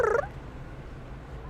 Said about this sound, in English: It made a weird, chirpy purr noise, like brrr.